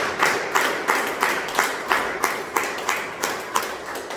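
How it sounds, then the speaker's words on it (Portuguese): Church congregation clapping in a steady, even rhythm, about eleven claps spaced roughly a third of a second apart, moderately distant and filling the room, with no speech over them. "dê as suas palmas ao Senhor"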